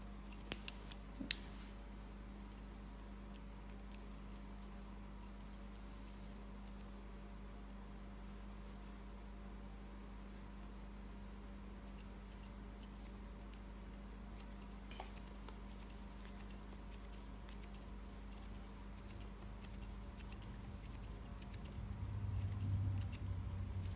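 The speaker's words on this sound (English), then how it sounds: "You're just going to cut away the excess thread" Small scissors make several faint, quick snips while trimming excess tatting thread, close by in a quiet room with a low background hum.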